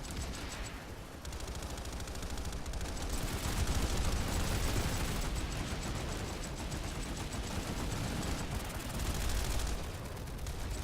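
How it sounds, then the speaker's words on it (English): Flashbangs and concussion grenades go off during a Planetside 2 battle, a dense, continuous barrage of loud blasts mixed with rapid gunfire, with no pause across the whole stretch. "Flashbangs and conks going out."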